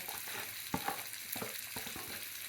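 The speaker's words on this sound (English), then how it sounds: "I'm going to put my tofu in here. It's nice and sizzly." Tofu fries in hot olive oil with a soft, continuous sizzle that has a few crackling pops, faint and close by, with no voices.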